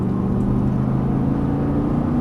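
A Lamborghini Gallardo accelerates on a race track, its engine a steady, loud, close droning rumble that holds throughout without breaks.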